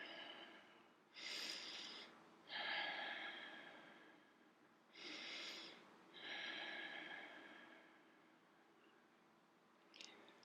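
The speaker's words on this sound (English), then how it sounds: "Breathing." Slow, soft breaths drawn in and let out during a seated chair yoga stretch, with two paired inhale-exhale cycles that are close and quiet against a silent room.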